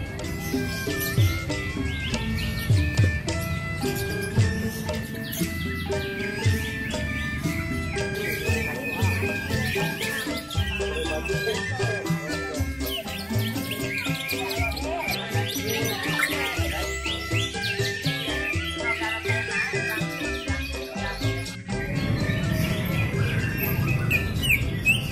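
Magpie robins (murai) sing at an outdoor bird-singing contest, with dense, continuous chirping and trilling song layered over a busy crowd din throughout.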